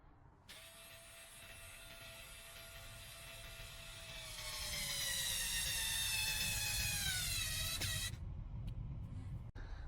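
Power screwdriver from a budget smart-home and IT toolkit driving a very hard screw: a steady high motor whine that strains louder and rises in pitch midway, then cuts off abruptly, leaving a few faint clicks.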